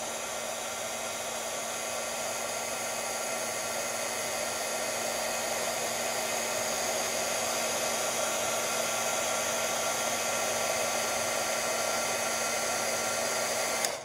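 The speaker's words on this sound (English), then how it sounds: "Now I'm gonna hit it with my heat tool for about 10, 15 seconds, and then we'll cut it out as well." A heat tool blows continuously on embossing powder, a loud, steady whirring rush of air that holds unchanged for the full stretch with no talking.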